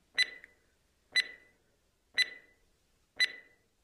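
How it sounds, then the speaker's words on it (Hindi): A timer beeping during an ASMR back treatment, four short bright chirps spaced about one second apart, clear and isolated against silence. "हम लोग अब टाइमर चला देंगे"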